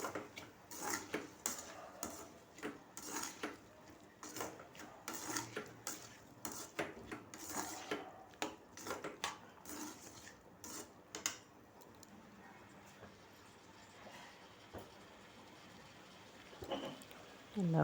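Tomato thokku sautéed in a pan, a quiet run of rhythmic rubbing and scraping strokes from a spatula against the pan, fading toward the end, with a faint voice in the background.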